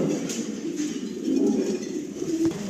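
Down Shape pigeons in a loft coo in soft, repeated low murmurs, fairly close, with a few faint clinks around them.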